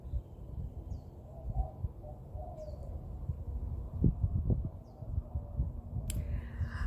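Outdoors, a few faint, sparse bird chirps sound over a low rumbling background, spaced a couple of seconds apart and distant.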